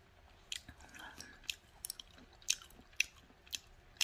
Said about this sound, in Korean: 계속 집어먹고 있는데